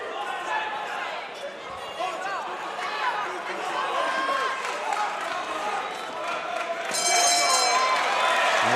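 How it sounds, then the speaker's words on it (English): Boxing crowd at a Basi versus Dragone fight, a dense sustained roar of cheering and voices that swells louder near the end, with a commentator's voice mixed in. "Crowd getting into every Basi moment."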